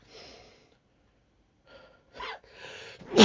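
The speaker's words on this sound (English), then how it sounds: "I'm gonna sneeze because they're covered in fucking dust" Sharp breathy intakes building up to a sudden loud sneeze at the end, close to the microphone, with near silence between.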